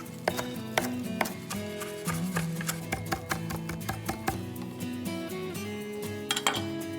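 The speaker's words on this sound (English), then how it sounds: "I've got some fresh parsley and fresh dill. I thought that would be a really yummy combination. And I'll just mince them up really finely." Fresh parsley and dill minced finely with a knife on a board, a steady run of quick, close cutting taps under light background music.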